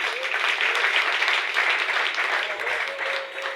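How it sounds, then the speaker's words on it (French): Applause for a student at a school awards ceremony, a sustained wash of clapping from a gathered crowd of parents and pupils, with a faint voice over it. "Sous vos applaudissements,"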